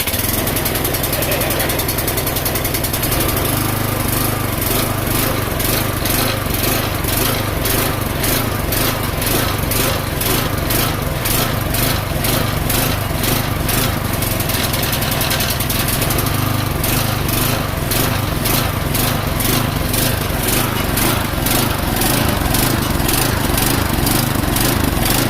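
Small engine on a landscaping machine running with the choke on, a loud continuous rough putter with rapid pulsing firing and vibration, close up and alone throughout.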